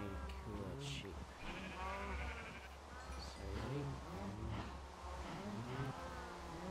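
Sheep bleat repeatedly in Minecraft, mixed with game sounds and someone talking over them, moderately loud.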